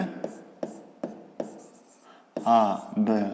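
A pen scratches out a triangle's name by hand in short, evenly spaced strokes, close and dry, followed by a person speaking.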